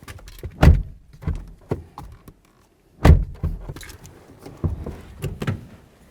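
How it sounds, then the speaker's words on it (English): Driver's door of a Ford Expedition, 2007-2017 model range, opened and shut twice after a front window regulator install: two solid thunks with latch clicks, rattles and handling noises in between, close and fairly loud, no talk. "let's make sure the door works from inside and out."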